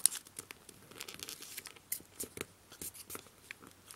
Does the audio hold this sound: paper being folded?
yes